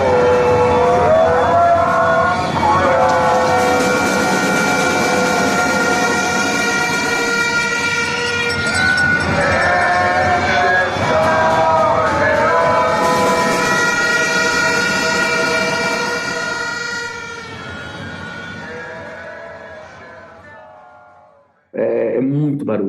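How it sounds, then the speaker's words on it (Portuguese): Loud, dense crowd din at an Israeli street demonstration, with whistles, horns and instruments blaring continuously, sustained tonal blasts layered over shouting, cutting out abruptly near the end. "Muito barulho, mas é inacreditável, porque não para. Todo mundo traz instrumento, traz apito, traz corneta."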